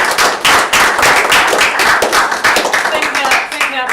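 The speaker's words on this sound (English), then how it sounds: "give our speakers a last round of applause" An audience at an ecosocialism conference applauds its speakers, loud close clapping that rings out in dense rapid claps for about four seconds.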